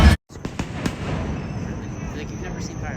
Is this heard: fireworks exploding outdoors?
yes